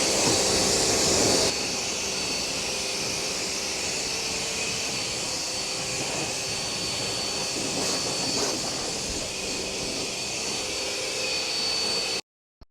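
Water sprays steadily over a KTM 990 Adventure S motorcycle outdoors, a broad continuous hiss with a brief louder burst at the start, running without speech until it cuts off near the end.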